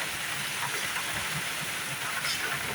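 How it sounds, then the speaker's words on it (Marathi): Rain falls steadily outdoors near a tulsi plant, a soft even wash of patter and hiss with no distinct drops standing out, fairly faint and unbroken throughout. "पाऊस पडतोय."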